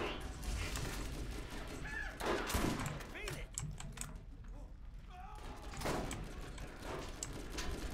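Rapid automatic gunfire from a weapon in the video game Borderlands, a dense stream of sharp shots running nearly throughout, with a player talking over it.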